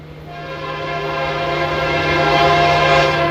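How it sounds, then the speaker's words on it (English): Eastbound oil train passing Monolith near Tehachapi, a loud sustained multi-tone horn blast over the rising rumble of locomotives drawing closer. "Here comes an Eastbound oil train coming over to Tachapi."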